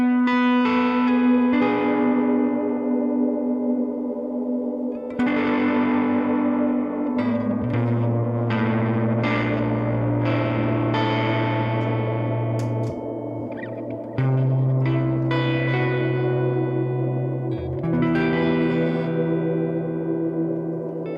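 An electric guitar through a BOSS GT-1000 reverb plays sustained chords and notes drenched in reverb and echo, each tone ringing out and blending into a wide wash.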